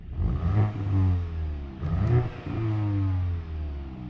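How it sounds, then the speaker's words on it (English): A Volkswagen Golf GTI Mk 8.5 engine revs up and down in three close, loud sweeps, each rise followed by a falling drone back toward idle. "do you want to hear the engine sound?"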